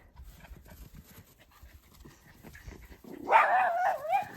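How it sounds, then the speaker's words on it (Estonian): Dog barking outdoors, a short burst of close barks and yelps arriving near the end after quieter rustling and background noise. "Nüüd ta haugub, ei tea kelle peale"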